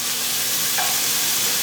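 Steak sizzling in a hot pan for a high-protein breakfast, a steady close crackling hiss with faint stirring, heard alone without talk.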